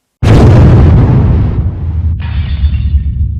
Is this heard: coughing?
no